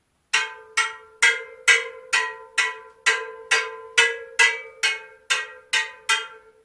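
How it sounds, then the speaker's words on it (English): Plucked spokes on a rear carbon fiber bicycle wheel, about a dozen bright metallic pings at an even pace, each with a short ringing decay, close and alone. "Not going to ring so much, but you'll still hear the difference in pitch."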